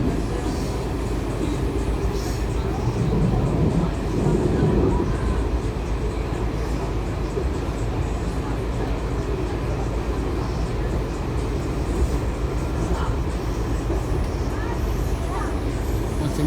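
Onboard ride in Kawasaki metro railcars 7126 and 7184 heading to Mt Vernon Square, a loud continuous rumble and rail roar filling the cabin with faint squeals and clatter, steady from start to finish.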